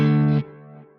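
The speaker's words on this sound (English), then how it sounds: "Start just a little bit of like distortion on the delays." A guitar note runs through a Nano Cortex delay with drive distortion, the gritty, harmonically rich tone sustaining loudly before cutting to a quieter, fading delay repeat.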